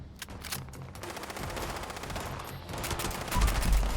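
Rapid bursts of automatic gunfire ring out in the video game Fallout 76, dense, loud rattling volleys with no voices over them.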